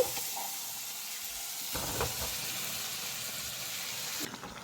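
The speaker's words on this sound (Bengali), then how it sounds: "এবার আমি গাঁটি কচু দিচ্ছি।" Gathi kochu taro pieces dropped into hot sizzling masala with fish head, a loud steady frying hiss with a burst of stirring and clatter as the taro goes in, no talking.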